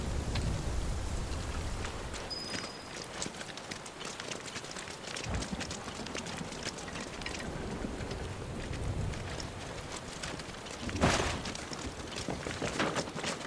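Steady rain falls in the video game Final Fantasy VII Rebirth, a dense continuous patter with broadband hiss, joined by scattered footsteps and game effects and a louder burst near the end.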